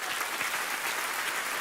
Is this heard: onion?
no